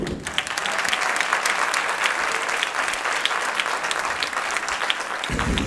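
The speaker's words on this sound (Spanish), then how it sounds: "¡Pueden aplaudir aquí!" A comedy audience at a stand-up show claps and cheers in a loud, dense round of applause lasting several seconds, close and full, with no talking.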